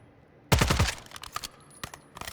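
Rapid automatic gunfire in a Call of Duty match: a tight burst of several shots up front, then scattered lighter shots and clicks trailing off, with no talking.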